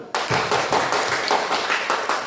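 Students in a classroom clap for a group that has just finished its presentation, a steady patter of many hands at close range, fairly loud and continuous with no talk over it.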